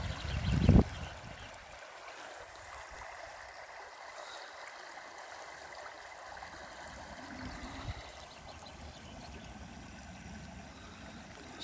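Tidal water flowing back into a lake in Norway: a steady, soft rushing and trickling wash, continuous and fairly distant, with a brief louder bump near the start and no talk.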